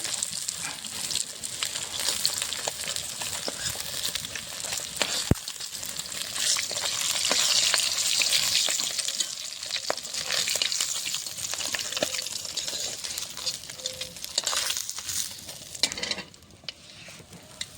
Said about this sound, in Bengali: বাকি মাছগুলো লাল লাল করে ভাজা হয়ে গেছে